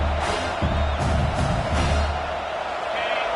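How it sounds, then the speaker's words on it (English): Football stadium crowd roaring and cheering loudly, a dense sustained wall of voices with a few swells and whoops over about three seconds. "This crowd, full throat, spreading the eardrums"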